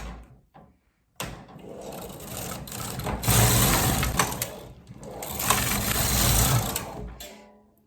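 A Silver Reed SK280 knitting machine, set up to knit a punch-card pattern, has its carriage pushed across a row, making two long mechanical rasping sweeps with clicks and clatter. No one speaks.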